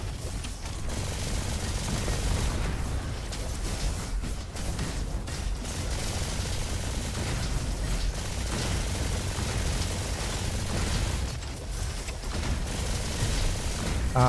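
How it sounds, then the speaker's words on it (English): Valkyrie rifle fire in the robot shooter Roboquest keeps up a dense stream of rapid shots through most of the stretch, loud and continuous, with booms and crackling impacts layered over it. "I like the fire speed, of course, of Valkyrie rifle"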